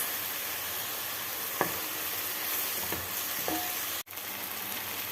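Onions, peppers and potatoes sauté in a pot for a vegetable chicken soup, a steady close sizzle with a few spoon taps and scrapes.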